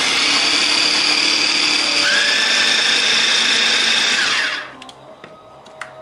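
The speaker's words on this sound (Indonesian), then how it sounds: "sekarang mau kita giling pakai chopper" An electric food chopper grinds bird's eye chillies and shallots with a loud, high whirring motor whose pitch drops partway through. It then winds down and stops, leaving a few light clicks and taps.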